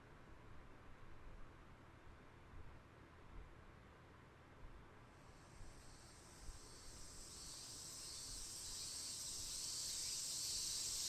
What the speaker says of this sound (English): the keening of cicadas eats at me